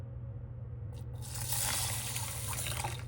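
Water poured into the pot of a Panasonic electric rice cooker, a close, steady splashing pour over a low constant hum, swelling midway and continuing to the end.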